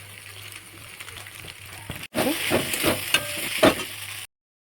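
Maggi noodles with masala frying in a pan and being stirred, a steady sizzle with scraping stir strokes after a brief pause, fairly close and loud, with no talking.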